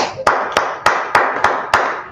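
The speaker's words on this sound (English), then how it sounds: "Let's clap it up for the Lord" An audience claps along in a church service, six sharp, evenly spaced bursts of hand claps about a third of a second apart, loud and close.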